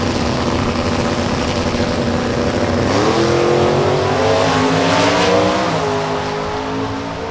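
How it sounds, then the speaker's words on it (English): Drag race cars, a 2010 Ford Mustang with a 330-cubic-inch Ford engine and factory GTB setup against a 1991 Pontiac, roar loudly down the strip, engine pitch climbing steadily through gear changes with constant heavy mechanical noise. "Mustang making its way to the finish line"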